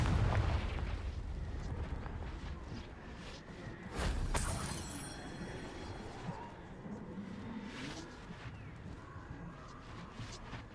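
A Confringo fire spell explodes in Hogwarts Legacy, a heavy booming blast with a rumbling burst at the start and a second sharp shattering explosion midway, then lingering crackle and debris.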